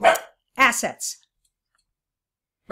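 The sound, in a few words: dog barking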